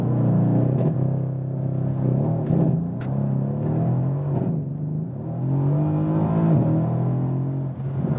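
Mercedes-AMG C63 S coupé V8 held at high revs on the line for a race-start launch, a loud continuous rumbling roar with wavering pitch and slight surges, no voices.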